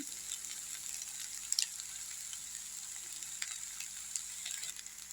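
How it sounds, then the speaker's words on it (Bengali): Soy sauce goes into egg chowmein frying in a pan, giving a faint, steady sizzle with a few small clinks and no talking. "এবার আমি একটা একটা করে সস দেব প্রথমে আমি সোয়া সসটা দিচ্ছি"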